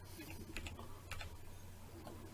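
A computer keyboard key pressed during modeling work in Blender, heard as a few soft, close clicks over a steady low hum, with no voices.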